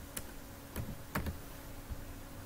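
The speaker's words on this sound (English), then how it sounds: "you can see few name of subjects I'm typing here" Sparse typing on a computer keyboard while entering a custom list in Microsoft Excel, with a handful of soft, irregular key clicks in a quiet room.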